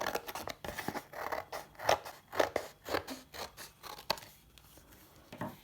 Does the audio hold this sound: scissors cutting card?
yes